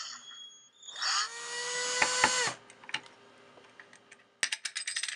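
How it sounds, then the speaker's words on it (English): A power drill fitted with a star bit backs out a stuck screw from a computer hard drive, its motor whining steadily for a couple of seconds before winding down, followed by scattered clicks and metallic rattles up close. "it took a power drill with a star-nosed bit to do the trick"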